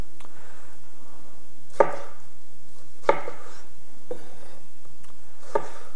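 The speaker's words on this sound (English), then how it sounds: "So I'm just going to roughly chop the tomatoes here." A knife roughly chops tomatoes for a bean and tomato soup, four sharp separate thuds on a board spaced over several seconds against a quiet room.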